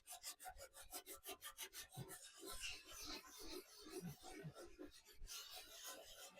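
Rhythmic rasping strokes of sandpaper lightly sand a painted surface, first in quick even passes, then in looser scrubbing, quiet and close.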